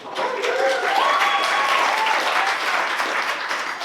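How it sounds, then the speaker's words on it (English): Wedding reception guests applaud the matron of honor, a loud, steady wash of clapping from a full room with a few cheers and voices mixed in. "Give her a big round."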